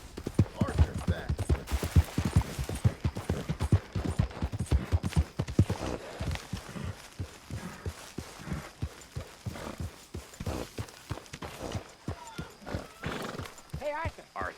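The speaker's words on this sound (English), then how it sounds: "Get that horse out of here!" Steady clip-clop of horse hooves close by in the video game Red Dead Redemption 2, with a horse whinnying and people talking over the rhythmic hoofbeats.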